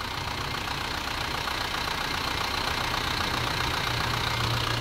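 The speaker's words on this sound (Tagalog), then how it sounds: "gumana na yung compressor" An Isuzu Fuego engine runs with its air conditioning compressor engaged, giving a steady, close mechanical drone with a low rumble throughout and no voices.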